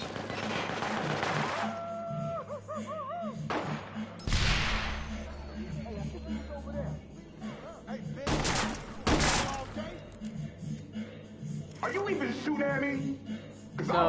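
Gunfire in the video game Watch Dogs: scattered shots and sudden loud bursts cut through music and voices, with two big blasts near the middle and a flurry near the end.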